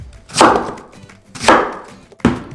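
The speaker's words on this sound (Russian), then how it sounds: "Мякоть нарезаем на 6 частей." Three firm knife chops through pineapple flesh land on a cutting board, spaced about a second apart, close and fairly loud with no talking.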